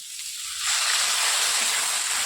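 Water is poured into a pan of simmering curry, a rising slosh that becomes a steady bright hissing pour, close and fairly loud, with no talk over it.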